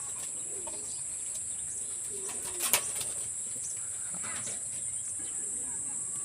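Pigeons coo faintly in soft low bursts under a steady high insect drone, with one brief rustle or knock partway through.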